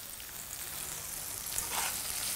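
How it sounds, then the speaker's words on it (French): Onions, garlic, ginger and spices fry in a pan with a continuous crackling sizzle, close and even, rising slightly toward the end. "On va les mettre à la poêle avec les oignons et le mélange épicé, ail, gingembre,"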